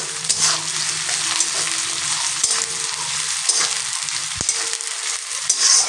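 Onion fries in a pan with a steady, close sizzle, broken by a few light clinks of stirring.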